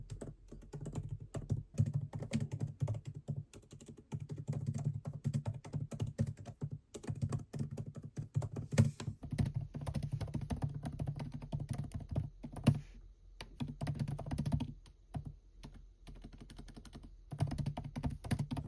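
Steady, close typing on a computer keyboard during a writing session, a continuous stream of quick clicks with brief pauses between bursts over a low background hum.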